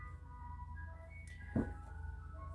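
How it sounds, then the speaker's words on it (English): An ice cream truck's chiming melody plays continuously over a low engine hum as it passes an apartment building, with a single dull thump partway through. "The ice cream man is passing my apartment building"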